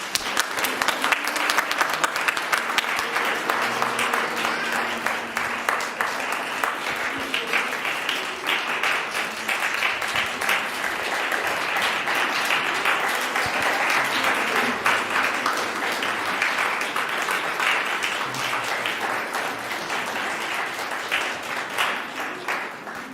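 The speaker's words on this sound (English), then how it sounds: "Let's welcome them with applause." A church congregation applauding to welcome families during an Advent service, a dense, sustained wash of many hands clapping that fills the room steadily and slowly tapers near the end.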